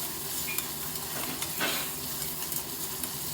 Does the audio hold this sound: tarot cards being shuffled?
no